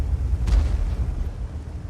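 A tank shell slams into an enemy tank in World of Tanks, a single deep booming impact with a low rumbling tail, loud and close with no talking.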